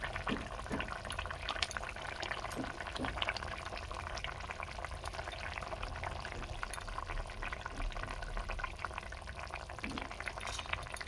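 A pot of potato and ridge gourd curry boils steadily, a continuous close bubbling and simmering hiss with small pops, unbroken throughout and with no talk over it.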